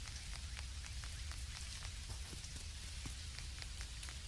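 Steady rain falls in the farming video game Dinkum, a dense, even hiss of drops with scattered light patters, faint and continuous throughout, with no talk.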